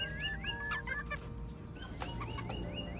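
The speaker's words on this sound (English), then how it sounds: "My little goth chickens." Chickens cluck steadily in a backyard coop in a Florida garden, hens and a rooster giving repeated close, overlapping clucks and calls with no talking.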